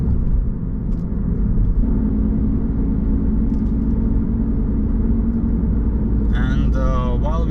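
A car cruises along Latvian country roads with a steady low engine and road rumble inside the cabin, constant throughout, and a voice starts speaking briefly near the end.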